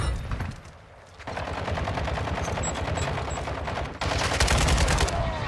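Gunfire from LMGs and semi-automatic rifles such as the 7.62 Lockman in a video game: rapid, sustained bursts of automatic shots that pause briefly and then resume louder.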